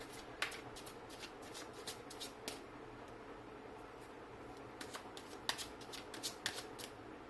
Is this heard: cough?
no